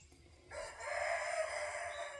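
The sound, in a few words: rooster crowing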